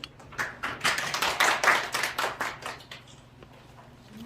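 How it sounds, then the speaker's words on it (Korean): Audience applause greeting a speaker at a Korean seminar, a dense roomful of clapping hands that swells for about two seconds and then thins out. "뜨거운 박수로 맞이해 주시면 고맙겠습니다"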